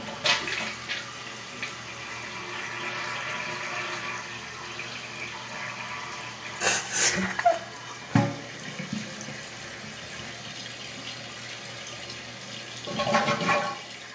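A 1989 American Standard Cadet toilet flushes, rushing water building then draining with a siphon gurgle, followed by refill trickling, heard close in a quiet bathroom with no talk.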